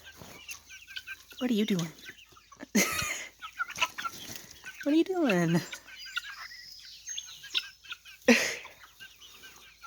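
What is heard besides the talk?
chicken clucking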